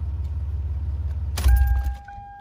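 A Toyota 4Runner engine idles with a low rumble, then a brief clunk and jangle as it shuts off, leaving a faint electronic tone ringing on.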